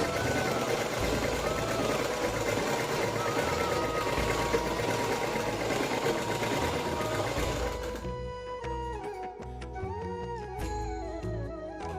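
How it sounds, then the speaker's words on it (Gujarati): Sewing machine stitching cloth pieces to make tassels for a blouse, a steady close whirring rattle that runs continuously for about eight seconds, then turns into a lighter, broken pattern of short bursts and pauses. "અને આપણે મારવાની છે અહીંયા સિલાઈ. સિલાઈ લગાવી દઈશું."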